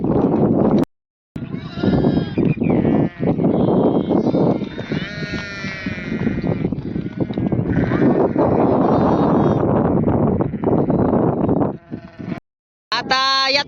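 Repeated sheep bleats, loud and close, overlapping in a busy outdoor mix with a brief voice at the end.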